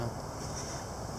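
Gusty outdoor wind ahead of an October 2019 wind storm buffets the microphone as a brief, loud, broadband rush that holds steady for about a second.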